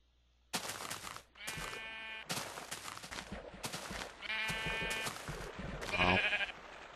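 Sheep in the video game Minecraft bleat several times in quick succession, close and clear, each call a short wavering burst with brief gaps between them.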